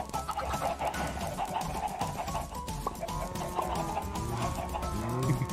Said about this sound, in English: Some of the chickens above.